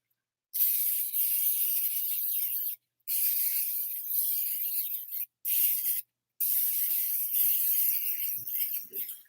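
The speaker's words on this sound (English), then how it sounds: "You want to spray that all over your pan." Cooking spray hissing from an aerosol can onto a cake pan in a home kitchen, four long continuous bursts with short pauses between, close and steady, followed by faint light clatter.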